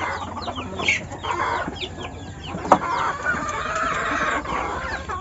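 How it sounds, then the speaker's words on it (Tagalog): Roosters crow and hens cluck nearby, with overlapping calls and a sharp tap midway against a farmyard background. "Ayun yung tandang nandun eh."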